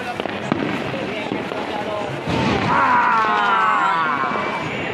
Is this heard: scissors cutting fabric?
no